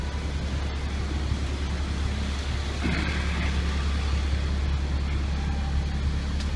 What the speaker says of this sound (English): There's the tow truck